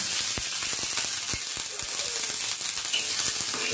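Ingredients for a village-style budamkayala chutney frying on a flat pan, a steady close sizzle with frequent small pops and crackles throughout, no talking.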